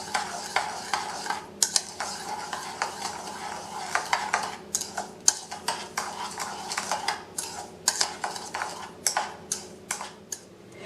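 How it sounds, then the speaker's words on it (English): A utensil mixes pumpkin bread pudding ingredients with ground nutmeg and cloves in a bowl, making a quick string of close clinks and scrapes against the sides, steady and irregular, with no talking. "Mix all the ingredients until well blended."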